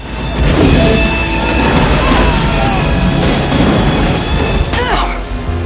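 Loud, dense action-movie din from the 1997 film Con Air, with booming blasts and crashing debris under music and faint shouting, steady and heavy throughout, with a sharp burst near the end.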